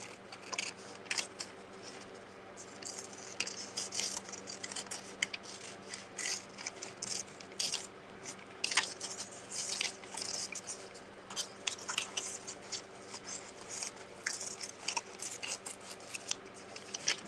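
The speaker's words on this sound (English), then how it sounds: "I am going to kind of loosely fussy cut." Scissors fussy cut paper for an art journal, a long run of quiet, close, irregular snips and crisp paper rustles with small pauses, with no talking.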